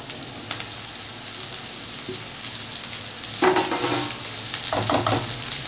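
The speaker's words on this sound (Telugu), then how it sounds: "ఇప్పుడు దీంట్లో మనం కట్ చేసి పెట్టుకున్న క్యాప్సికమ్ వేసేసుకుందాం." Chopped capsicum drops into a pan of browned, sizzling onions, giving a steady low fry hiss that swells into louder crackling bursts and scraping stirs partway through, close up and with no talking.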